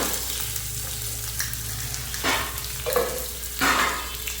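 Pineapple pachadi frying in a pan crackles and hisses steadily, broken by several louder scraping stirs of a spoon through the mixture.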